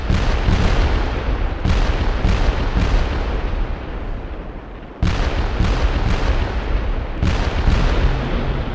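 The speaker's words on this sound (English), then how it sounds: "morning erupted into a firestorm of shells and rockets" Naval shells and rockets pound Iwo Jima in a relentless barrage, loud booming blasts and sharp detonations overlapping in rapid irregular bursts, with a brief lull before another heavy volley.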